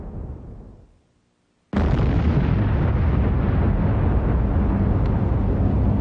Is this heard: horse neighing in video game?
no